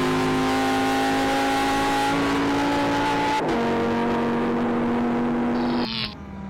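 A Mercedes-AMG GT R and a Lamborghini Huracan Performante accelerate hard, engines climbing in pitch through a gear, a brief dip at the shift, then another rising run before the note drops; loud and close, no talking.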